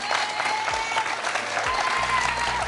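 A TV quiz show studio audience claps steadily for a contestant, a dense, close burst of applause that carries on throughout, with a low hum underneath.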